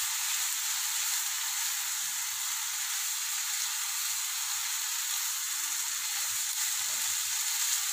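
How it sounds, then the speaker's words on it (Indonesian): Vegetables with dried shrimp, shallots and celery leaves are stir-fried dry in a pan as a filling for choi pan dumplings. The frying gives a constant, even, high sizzle and hiss, fairly soft and close, with no voices. "Ini cukup ditumis kering ya,"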